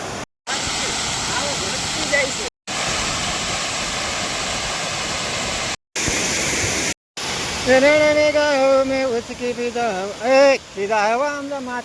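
Water pouring through the opened gates of the Shetrunji dam, a loud continuous rushing roar, briefly cut off in places, with a voice speaking over it toward the end.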